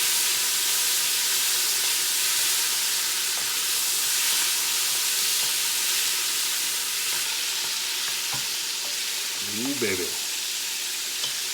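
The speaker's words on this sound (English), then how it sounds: "There goes the beef in the pan. Got some butter and oil in there." Beef sizzles in a pan with butter and oil, a steady loud frying hiss throughout. Someone speaks briefly over it near the end.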